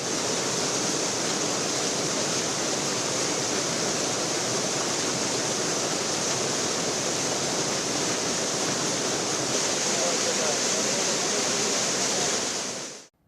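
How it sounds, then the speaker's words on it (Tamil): Water released from the Sathanur dam rushes over check dams in Cuddalore district, a loud, continuous broadband roar holding steady for the whole stretch before cutting off abruptly at the end. "அணையிலிருந்து திறந்துவிடப்பட்ட தண்ணீர் கடலூர் மாவட்டத்தில் உள்ள தடுப்பணைகளை கடந்து கடலில் கலக்கிறது."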